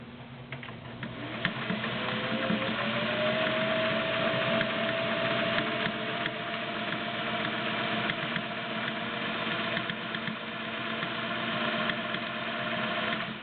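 A Singer 500A Slant-O-Matic sewing machine stitches a plain zigzag, running with a steady, continuous mechanical whir and hum at close range throughout, with no talk over it.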